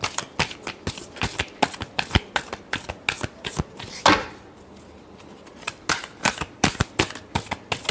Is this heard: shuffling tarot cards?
yes